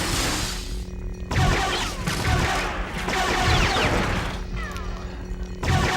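Blaster bolts from droids in Lego Star Wars: The Complete Saga are batted back by a lightsaber, giving a run of crackling impact bursts and zaps over busy game music and effects, loud and steady for several seconds.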